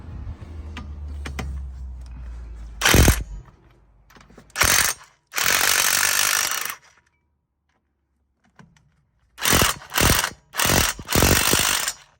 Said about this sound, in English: I'm just going to loosen them up now